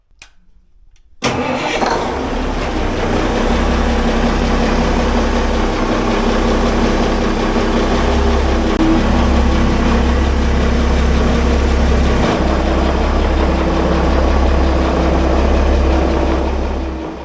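A marine boat engine fitted with a newly built belt guard cranks and catches after a second of quiet, then settles into a loud, steady, rumbling idle close by that runs to the end.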